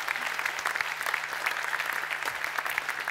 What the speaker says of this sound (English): let's have a huge round of applause for that.